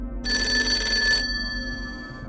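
A landline telephone rings in a Washington DC office with a bright electronic bell tone, one burst of about a second that then decays and fades, close and clear with no one talking.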